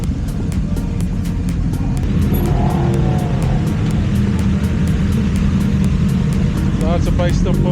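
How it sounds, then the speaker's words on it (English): Motorcycles rolling in to an end-of-season riding group meet at a coffee shop, a steady loud low engine rumble throughout with occasional revs and voices talking over it. "Lots of bikes still pulling in here."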